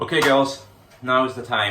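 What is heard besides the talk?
None of the usual background noises is heard.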